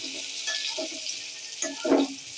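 Pointed gourd (potol) frying in a pan, a constant bright hiss of oil with occasional stirring scrapes and a louder sizzling burst near the end, no voices.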